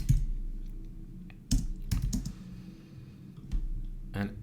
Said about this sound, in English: in the meanwhile, we'll type in the command to start logging